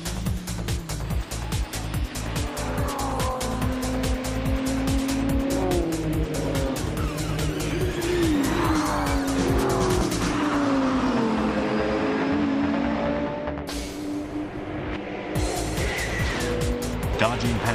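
Race cars in the Gran Turismo 5 Nürburgring 24-hour endurance race: a loud, steady engine drone with shifting revs, rhythmic pulsing and squealing tires as cars pass, under a narrator's voice throughout.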